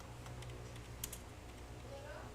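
Fast keystrokes tap on a computer keyboard while text is entered into Notepad, a quiet steady clatter with a soft voice in the background.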